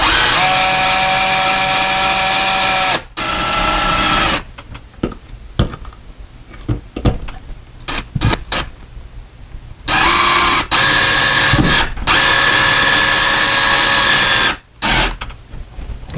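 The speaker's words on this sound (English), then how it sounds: "we hold our bracket where we want it to be mounted, and we'll screw it down" Power drill driving screws to mount a blind bracket onto a window frame, loud whirring bursts separated by short pauses, near and alone.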